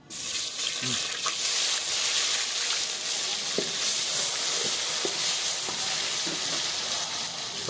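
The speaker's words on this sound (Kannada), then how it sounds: "ನಂತರ ಎಣ್ಣೆ ತುಂಬ ಕಾಯೋವರೆಗೂ ವೆಯ್ಟ್ ಮಾಡಿ." Oil heats in a pan for a non-veg festival meal, giving a steady broadband sizzle and hiss with a few faint clinks and stirring taps, fairly close and continuous throughout.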